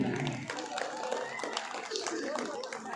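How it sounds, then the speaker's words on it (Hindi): At a school poetry event, many hands clap in a lively round of applause, fairly quiet and distant, with children's voices and chatter mixed in. "एक जोरदार ताली होना चाहिए।"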